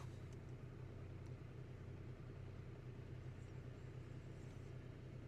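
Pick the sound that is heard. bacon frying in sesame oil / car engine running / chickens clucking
car engine running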